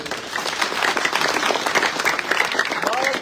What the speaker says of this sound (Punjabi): ਮੇਰੇ ਵੀਰੋ ਇੱਕ ਵਾਰ ਤਾਲੀ ਮਾਰੋ ਇਸ ਗੱਲ